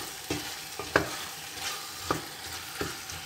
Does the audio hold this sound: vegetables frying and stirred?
yes